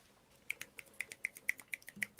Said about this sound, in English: I've never clapped like this before.